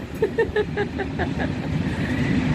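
A train passing near a home kitchen, a steady low rumble that swells and grows louder over a couple of seconds, with faint voices in the background.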